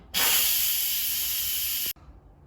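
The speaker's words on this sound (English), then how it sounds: "Now the Instant Pot is done cooking, so let's quick release the steam." An Instant Pot quick-releasing steam after pressure cooking a whole butternut squash, a loud continuous close hiss that starts abruptly, holds steady for nearly two seconds, then cuts off sharply.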